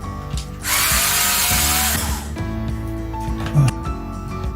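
A power drill bores holes into a ski binding, a loud steady whine lasting nearly two seconds against a background of mechanical hum and faint workshop clatter.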